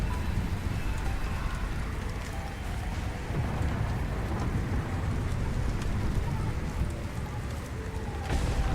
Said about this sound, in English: Lightning during a hailstorm,